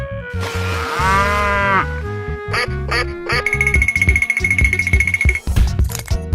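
A cow moos in an animal-guessing escape room game: a drawn-out lowing call opens the clip, followed by quacking and other short electronic game sounds in quick succession.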